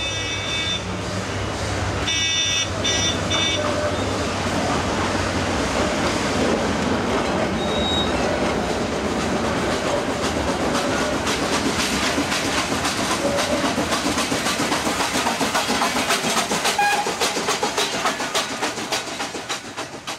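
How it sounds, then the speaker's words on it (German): A Nilgiri Mountain Railway train pulls into a station in the Indian hills, a loud, continuous rumble of wheels on track with metallic squeals and clatter, steady and close throughout. "Und schon ist der Zug da."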